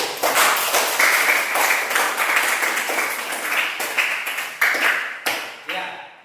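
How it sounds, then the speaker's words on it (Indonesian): Dense clapping from an audience at an indoor discussion event, steady and sustained for several seconds before tapering off, with a voice speaking over it. "Sekali lagi kita berikan aplaus dulu untuk kita semua"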